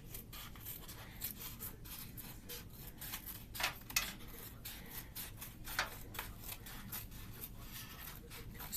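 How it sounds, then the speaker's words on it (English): Sharp utility scissors cut through material in quick repeated snips, a soft crisp rhythmic rasping heard close up at low volume with no voices. "Just a good sharp pair of utility scissors."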